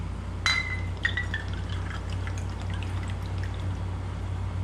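Vinegar pours steadily into a container for garlic dill pickle brine, a continuous liquid stream with a few glassy clinks near the start, close and fairly loud.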